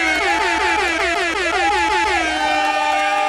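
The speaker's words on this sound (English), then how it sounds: "An air horn." A loud air horn blares continuously, its pitch wavering and sliding in repeated whoops, close and piercing.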